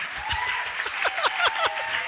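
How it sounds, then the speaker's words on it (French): A church congregation applauds during a sermon, giving a brief burst of scattered, uneven clapping at moderate distance with a faint voice underneath. "vous avez applaudi sans me poser la question"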